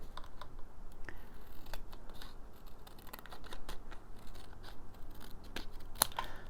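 Close scissors snipping through paper, a busy run of small crisp cuts and rustles with no voices.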